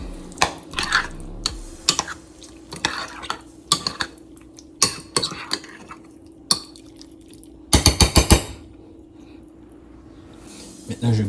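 A spoon mixes peppered food in a dish for breakfast, giving a string of sharp clinks and scrapes against the dish at an irregular rhythm, with a dense burst of rapid clinks near the end, close and moderately loud.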